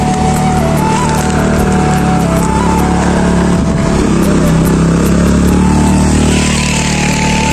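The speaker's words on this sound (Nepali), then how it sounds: "बाइक आयो है" A motorbike engine runs steadily and loud close by, its continuous drone filling the whole stretch with no clear pauses.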